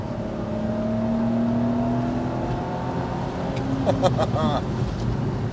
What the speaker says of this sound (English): There's no substitute for that 6-cylinder. You listen to that all day